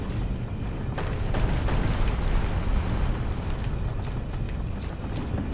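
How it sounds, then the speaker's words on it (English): Rolling rocks fired by a trap in Dark Souls Remastered make a continuous heavy rumble with dull thuds and knocks, loud and steady throughout. "You see it shoots the rocks in the opposite direction of where this is pointing."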